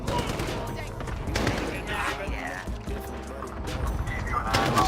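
Rapid AK rifle gunfire in a first-person shooter game, bursts of shots crackling loudly and continuously with game effects, while a voice talks over it.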